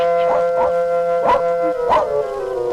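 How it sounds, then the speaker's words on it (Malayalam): A dog barks in four sharp, separate bursts over a steady droning background tone, close and fairly loud. "പട്ടി കിടന്ന് ബഹളം വെക്കണ കണ്ട"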